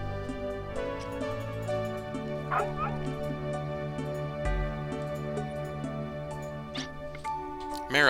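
A dog in the PlayStation game Wild Arms 2 gives a few short synthesized barks and yips over continuous looping game music, moderately loud.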